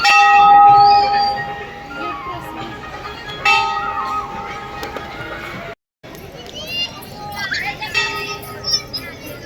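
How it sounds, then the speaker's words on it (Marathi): A temple bell at a Mahadev temple on a Shravan Monday rings out clearly near the start and again briefly midway, with ringing tones decaying amid crowd noise and voices. "इथं घंटा आहे बघा, घंटा."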